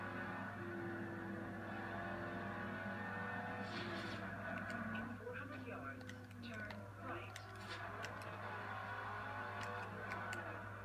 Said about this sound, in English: Funny because how high this car redlines.